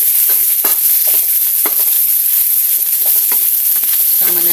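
Garlic, onion and ginger sautéing in a pan for native chicken adobo in coconut milk, a loud, constant sizzle of frying with occasional stirring scrapes throughout.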